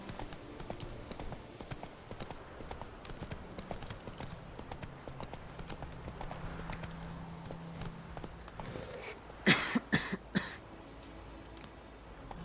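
Roach the horse trotting in The Witcher 3, a steady run of clip-clopping hoofbeats at moderate distance, with a short burst of louder game sounds near the end and no speech over it.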